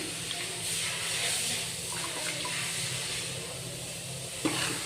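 Soaked tamarind water goes into hot oil in a pan for river-fish sambar, giving a steady loud hiss and sizzle that fills the whole stretch, close up, ending with a small clink.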